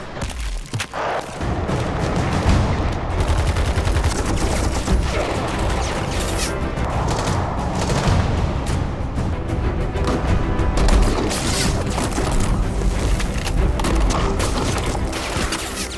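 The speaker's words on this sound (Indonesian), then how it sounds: "Di bawah komando Letnan Faisal, akhirnya pertempuran pun terjadi" Dense battle gunfire and explosions from an action war film, sustained rapid shots and heavy booms loud and continuous after a brief quiet opening, with no talk.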